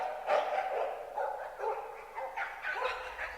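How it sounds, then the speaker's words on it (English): Several dogs bark and yip behind a closed door in a damp, musty place, sounding muffled and moderately distant in a series of short repeated barks, part of a dramatised audiobook scene. "There are dogs behind that door."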